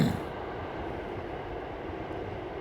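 Passing train, a steady broad rumble and roar that stays constant throughout at moderate level, with no talking over it.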